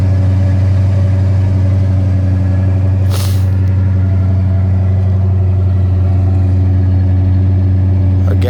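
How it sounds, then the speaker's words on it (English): A 1969 Mercury Monterey Custom with a V8 idling smoothly and steadily, a loud, close, even low rumble with no misses and one short hiss partway through. "The engine runs fantastic, doesn't miss a beat."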